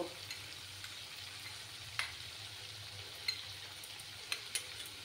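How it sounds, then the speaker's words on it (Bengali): Masala fries in a pan for a vegetarian dinner dish, a quiet steady sizzle punctuated by a few sharp spatula scrapes as it is stirred; no talking. "আমার মশলাটা প্রায় কষে আসছে।"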